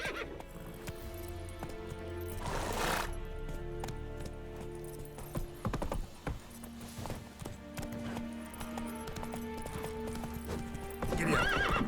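Horse in The Witcher 3 galloping with rapid clip-clop hoofbeats, a loud neigh near the start, tack jingling and faint game sounds around it.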